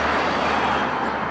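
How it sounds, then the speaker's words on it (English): Road traffic hums behind someone standing outdoors, a steady broadband wash of passing cars with no distinct individual vehicles and no talk. "I got audio, I got traffic running behind me"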